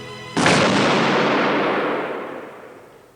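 A rifle volley fired on command cracks out as one sharp, loud simultaneous blast, then a long booming echo rolls away and fades over about three seconds.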